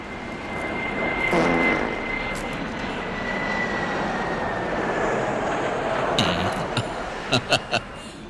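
An airplane engine drones steadily overhead, a continuous hum with a high whine, and a few faint metallic clinks near the end.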